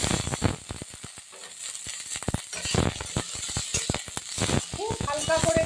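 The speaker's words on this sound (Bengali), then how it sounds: "এইবারে কিশমিশগুলো দিই।" Raisins sizzling and frying in oil in a pan for Bengali gobindo bhog rice payesh, a steady hiss with scattered crackles and light clinks, heard under nearby talk.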